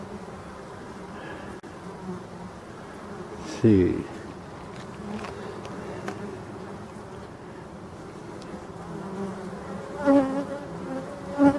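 Black bees humming around a freshly opened beehive outdoors, a soft steady buzz with occasional louder passes close by, under quiet background noise and a brief spoken word.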